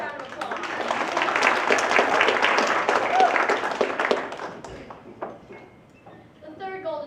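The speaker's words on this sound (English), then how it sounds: "Let's give her a round of applause" A dinner theatre audience claps and applauds loudly for a few seconds after a child performer in Charlie and the Chocolate Factory, then the clapping thins out and fades, with a voice briefly emerging at the end.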